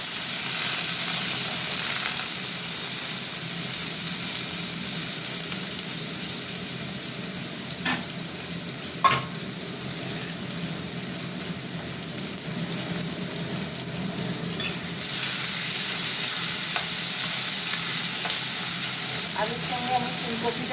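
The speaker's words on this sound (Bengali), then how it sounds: "আলুর সঙ্গে আমি ফুলকপিটাও দিয়ে দেবো, একসঙ্গে ভাজবো।" Potato and cauliflower pieces frying together in oil give a steady, loud sizzle throughout, broken by a few sharp clinks of stirring.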